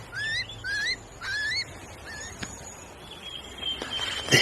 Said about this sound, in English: I can hear the chicks in the nest inside.